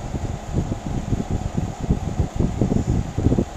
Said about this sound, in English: this is for the Danby 6000 BTU window air conditioner